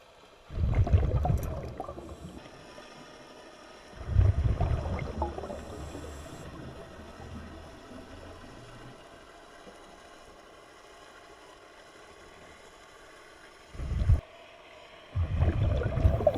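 A boat engine not far away, heard underwater during a metal-detecting dive, a low murky drone beneath bursts of loud bubbling and water rushing.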